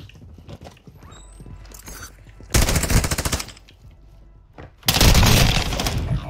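Video game gunfire comes in two loud, rapid automatic bursts of about a second each, close and harsh, separated by quieter clicking and rattling mechanical game sounds.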